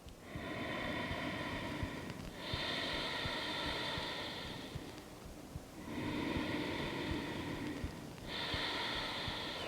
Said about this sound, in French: on essaiera de maintenir cette respiration sonore Ujjayi pour toute la durée de